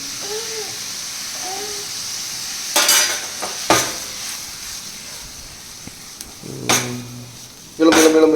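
Squid for kanava thokku is sautéed and stirred in a pan, with several loud scraping and clattering bursts of the utensil over a steady low sizzle, and a voice heard briefly near the start.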